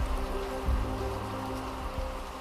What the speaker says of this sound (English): It is raining like crazy. It's not going to stop raining. This is no ordinary rain. This is a monsoon.